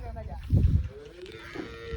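A cow or buffalo moos once, a deep short low call, close by in a village cattle yard at feeding and tethering time on a cold day, followed by quieter farm background.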